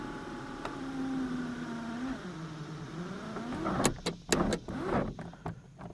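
A dealer-installed car moonroof motor runs with a slowly wavering, strained whine for several seconds, then stops amid a cluster of sharp mechanical clicks and knocks, heard close inside the car.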